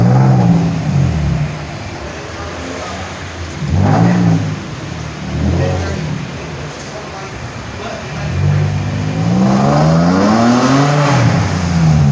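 An Infiniti G35/G37/M35 or Nissan 350Z drives on a test run after a gas pedal replacement, the engine rising and falling in revs with road noise and passing swells, while a person talks over it.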